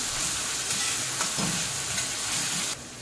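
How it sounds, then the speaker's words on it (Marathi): Curry leaves sputter and crackle loudly in a hot pan, a dense continuous sizzle with brief stirring scrapes, cutting off sharply near the end. "त्याच्यानंतर आपण हा कढीपत्ता टाकूया। चांगलं परतून घ्यायचं।"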